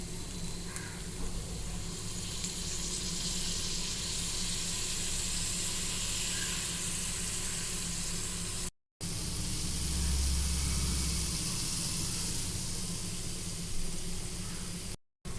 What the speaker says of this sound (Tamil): மசாலாலாம் பச்சை வாசனை போகிற அளவுக்கு வதக்கி எடுத்தாச்சு.